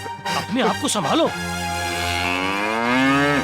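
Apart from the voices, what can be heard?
bull mooing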